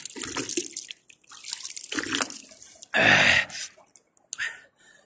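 Clear water flows and splashes outdoors in uneven bursts, with one louder rushing stretch near the middle among quieter gurgles.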